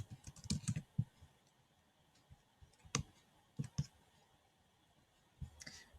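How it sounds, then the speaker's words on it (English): Typing on a computer keyboard in short, uneven bursts of key clicks with pauses between, fairly quiet and close, no talking. "we'll type in here"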